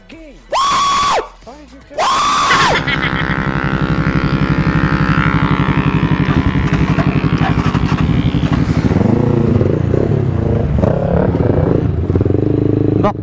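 Yamaha R3 motorcycle on a test ride, two short loud engine revs followed by a sustained roaring acceleration with the pitch climbing and shifting, close and loud throughout.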